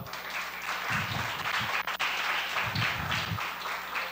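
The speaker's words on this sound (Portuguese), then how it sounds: "Aplauda ao Senhor" A church congregation applauds steadily throughout, a dense wash of many hands clapping at moderate distance, with faint low rumbles beneath.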